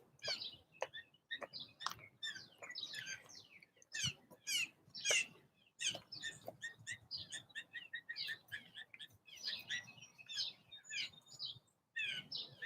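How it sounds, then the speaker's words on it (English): Two blue jays calling from a pine tree outdoors, their sharp chirps and calls repeating in quick, uneven bursts for the whole stretch, moderately close and fairly quiet, with no talking. "Oh, I think it's two blue jays. They're up in the pine tree."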